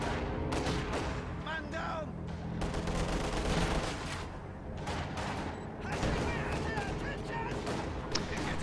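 Video game battlefield gunfire from DP machine guns and PTRS rifles: dense, overlapping bursts and sharp shots rattle loudly and continuously, with a few booms mixed in.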